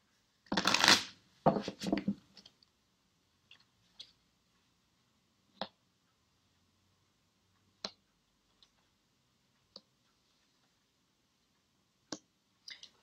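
Tarot cards being shuffled close up, a dense riffling burst at the start followed by a string of sparse, sharp card taps and flicks spread over a quiet pause.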